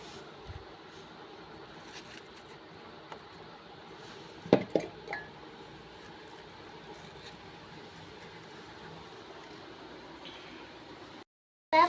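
Cut apple pieces dropped into a jar while making apple juice at home: a few faint glassy clinks clustered midway through a quiet, hissy background.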